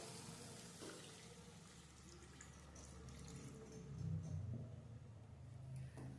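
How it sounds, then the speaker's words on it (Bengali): Water poured into a cooking pan on the stove while making a vegetarian lentil dish, a steady splashing pour that swells louder toward the end, with no talking. "এইবার এতে দিয়ে দিচ্ছি জল"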